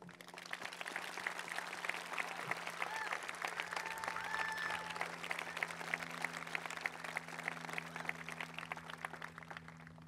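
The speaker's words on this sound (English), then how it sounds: "They deserve a big round of applause for everything they did." A high school graduation crowd in Concord, Massachusetts claps for parents, teachers and staff, producing soft, continuous applause heard from a distance over a steady low hum, with faint crowd murmur.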